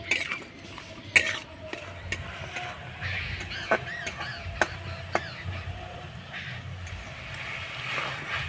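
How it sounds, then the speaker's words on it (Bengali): Sweet jaggery filling for fish-shaped pitha being stirred in a pan, with scattered scrapes and sharp spoon-on-metal clinks at irregular intervals over a quiet background, close and fairly soft. "এবার নাড়াচাড়া করে আমি পুরটা তৈরি করে নেব"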